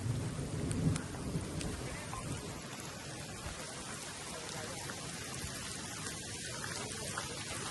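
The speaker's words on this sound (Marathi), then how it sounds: "पाऊस कडक आलाय." Heavy monsoon rain pours steadily in a dense hiss at Banner Hill, Pune, with a low rumble of thunder early on, heard from nearby.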